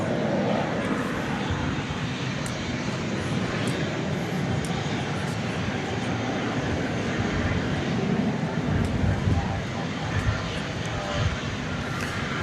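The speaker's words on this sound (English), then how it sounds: "that's American Flight 1056 going to Albuquerque, New Mexico" An American Airlines jet departs DFW Airport in the evening bound for Albuquerque, its engines a steady broadband roar filling the whole stretch, fairly loud and continuous, with a voice talking over it.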